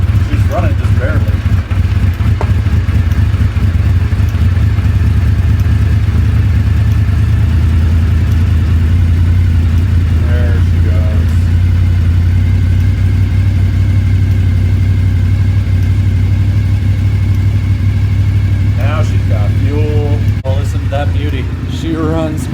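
A freshly repaired engine idles steadily with a loud, low, continuous rumble, close and unbroken for the whole stretch, with voices speaking now and then over it.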